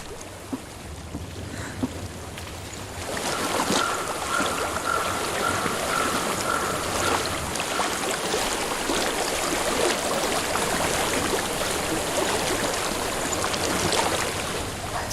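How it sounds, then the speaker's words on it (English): A flowing stream in the video game Hellblade: Senua's Sacrifice makes a broad, steady rush of water that swells in after a few seconds and continues loud and unbroken, with a windy hiss mixed in. "I hear water."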